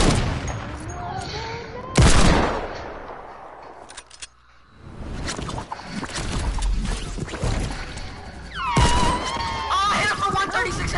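Rapid bursts of gunfire crack and clatter in a first-person video game shooter, loud and close, with sharp impact hits and a few quiet gaps, while players talk excitedly over the action.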